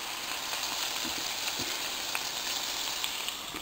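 Food sizzles steadily in a pan with a continuous, even crackle and a few faint stirring clicks, close and unbroken with no talking.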